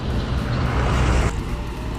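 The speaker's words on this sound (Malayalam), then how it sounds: "കോഴിക്കോട്ടേക്ക് പോകുന്ന ബസ്സാണത്" A bus bound for Kozhikode rumbles past on a dry, hilly road in Attappadi, Agali, its steady engine and tyre roar loud and close for about two seconds before easing slightly.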